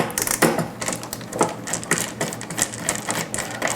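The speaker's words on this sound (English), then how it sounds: "Let's take these 4 screws out." Screws being backed out of the panel of a SciCan STATIM 2000 dental cassette sterilizer, heard as close, busy clicking and rattling metal with quick irregular taps and scrapes running without a break.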